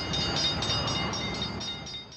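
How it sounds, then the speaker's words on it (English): A Fiat-built Italian self-propelled passenger rail car pulls into a mainline depot station in 1977, a steady rumbling roll with faint rhythmic wheel clicks and a high squeal, heard near and alone. "just in time to see a very different passenger train come into the station on the mainline"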